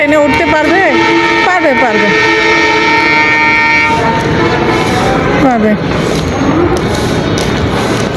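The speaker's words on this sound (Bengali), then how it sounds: "দেখো ট্রেন আমাদেরকে রেখে চলে যাচ্ছে এটা যাচ্ছে চিলাহাটি রাজশাহী থেকে চিলাহাটি যাচ্ছে" A passenger train on the Rajshahi to Chilahati route pulls out of a station, its horn blaring loud and close before giving way to the steady rumble and clatter of rolling wagons, with voices talking over it.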